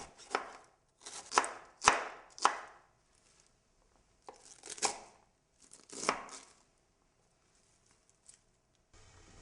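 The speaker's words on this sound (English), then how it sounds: "I slice the fresh Savoy cabbage up into medium-length strips." Fresh Savoy cabbage is sliced into strips with a knife on a cutting board, giving a quick series of crisp, close chops in uneven bursts separated by short pauses.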